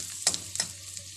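Chopped garlic sizzles steadily in a hot pan, with a couple of short scraping stirs cutting through the frying hiss.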